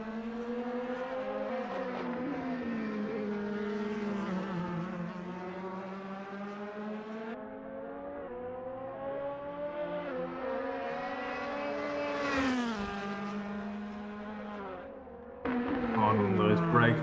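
An Audi DTM race car in a sim racing game screams through gears on a Zandvoort lap. The engine note rises and falls under changes and downshifts into corners, with a commentator talking over it.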